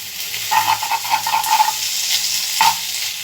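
Boiled pumpkin leaves frying in a pan, a steady close sizzle with scraping stirs of a utensil against the pan, no talking.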